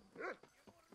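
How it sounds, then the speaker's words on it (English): A dog in the video game Red Dead Redemption gives a single short bark followed by soft whimpering yips, quiet and close. "I love the way they animated the dog."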